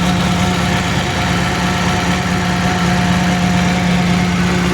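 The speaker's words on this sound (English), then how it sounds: "Okay, I'm gonna try doing a cold start here. This is 903 I fixed." A Cummins 903 diesel engine with a rebuilt pump runs after a cold start, a loud, steady, rumbling idle with a low knocking throb heard up close and alone.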